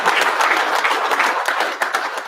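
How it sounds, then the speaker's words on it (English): A room of attendees at a Pro Football Hall of Fame Luncheon Club meeting gives a round of applause for corporate sponsors, a close, loud burst of many hands clapping that stays full throughout. "Let's give them a round of applause"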